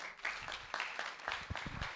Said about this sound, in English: Right, you can clap now.